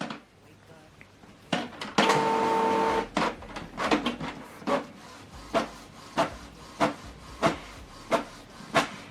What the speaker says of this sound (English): Now it's preparing to print.